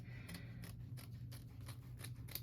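Small snips trim fabric, giving a series of quiet, crisp snipping cuts in an irregular rhythm, roughly eight or nine short snips, close up and faint, with no talking.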